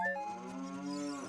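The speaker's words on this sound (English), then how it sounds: "Hello, cow." A cow moos in The Legend of Zelda: Ocarina of Time, one short, steady, low tonal call with a slight downward bend at the end, clear and alone.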